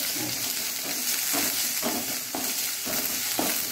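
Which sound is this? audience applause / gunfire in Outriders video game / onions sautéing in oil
onions sautéing in oil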